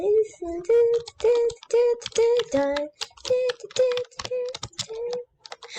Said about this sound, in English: sorry if you hear my clicking and clicking.